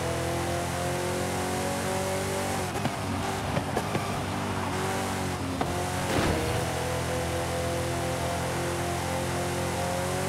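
An Acura NSX engine in Forza Horizon 5 revs in an online race, a loud sustained drone with harmonic whine and brief shifts and surges, with no talk over it.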